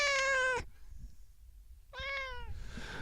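Two clear meows from a nearby cat, separated by a brief quiet pause, with a soft breathy trill trailing after the second one.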